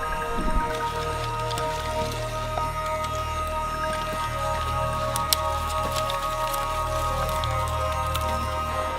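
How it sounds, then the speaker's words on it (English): Steady rain falls during a thunderstorm on a canoe trip, a continuous dense patter with occasional sharper drops, constant and fairly close, with no voices. "Then the rain started, and we had some serious thunderstorms coming through."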